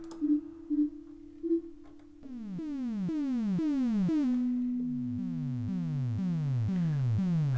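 An Ableton Operator synth patch with a retro arcade character: three short beeps, then a steady stream of repeated descending pitch sweeps like falling zaps, loud and evenly spaced.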